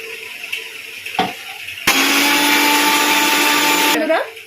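A blender whirs loudly for about two seconds, grinding soaked cashew nuts with water into paste, starting abruptly and cutting off sharply, with kitchen clatter and quieter sounds before and after.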